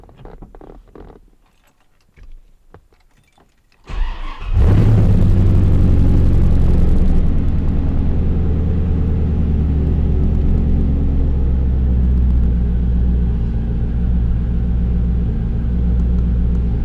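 A car engine cranks and catches on a cold start, then settles into a loud, steady rumbling idle that continues throughout.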